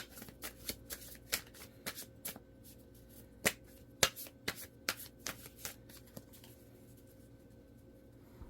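Tarot cards shuffled and drawn from a deck, a quick run of crisp, close flicks and snaps with short pauses, fairly quiet and with no talk.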